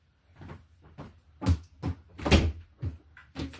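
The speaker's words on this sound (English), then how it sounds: "Shut the door." An interior door being shut, heard as a handful of sharp knocks and thuds spread over a few seconds, close by and with no talking.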